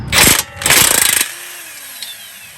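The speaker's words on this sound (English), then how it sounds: "I'm going to go ahead and use an impact" Impact wrench removing a 17mm strut bolt from a Toyota Camry front strut: two loud, close rattling bursts of hammering, the second with a clear pulsing rhythm, then a quiet fade.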